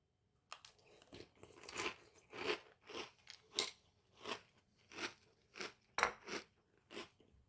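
Crunchy Choco Boom chocolate protein cereal is chewed close up in quick, regular bursts of crisp crunching, about a dozen bites in a steady rhythm against a quiet background.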